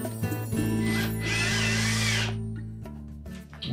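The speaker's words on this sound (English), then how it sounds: "the first screw that we'll install is the one through the face" A power driver runs a screw into the left front roller assembly of a Frigidaire refrigerator, giving one sustained close whir of about two seconds with a brief start and a stop, then quiet handling.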